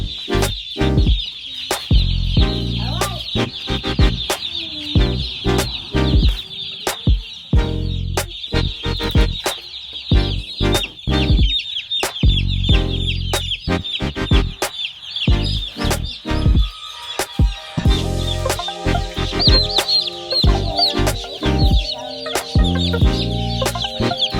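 A flock of Cornish Cross chickens clucks and cheeps continuously at close range, with many overlapping calls and occasional sharp knocks and scratching.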